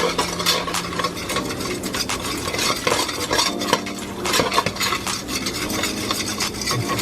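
A spoon stirs and scrapes flour around a pan in a busy home kitchen, giving rapid, continuous metallic scraping with clinks and a light sizzle beneath, close and steady.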